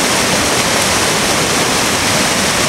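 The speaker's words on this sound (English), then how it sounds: "listen to that roar. This is Angel Falls." Big rapids at Angel Falls on the Big South Fork River roar as a loud, dense, unbroken wash of rushing water, close and constant with no other sounds.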